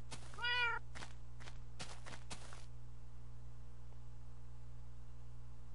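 A Minecraft cat gives a short series of close, clear meows, several quick calls in a row, then fades into quiet game background hum.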